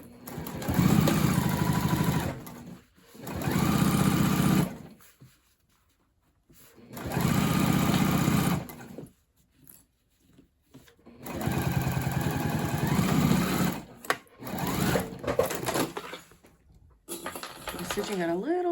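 Sewing machine running seams on a tote bag lining in several bursts of steady whirring stitching, close and loud, separated by quiet pauses with small clicks and handling noises.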